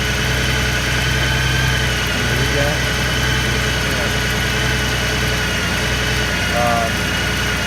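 A Honda Goldwing GL1800 motorcycle engine runs at a steady idle after a jump start with a newly installed alternator, close and loud, holding an even drone throughout.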